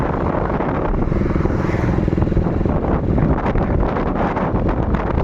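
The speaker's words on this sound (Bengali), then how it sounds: "তো আমি একটু রাইড করবো বাইকটাকে, তোমরা দেখতে থাকো।" Motorcycle with a modified exhaust being ridden in Berhampore, a loud continuous engine drone mixed with heavy wind buffeting on the microphone, steady throughout with no talk.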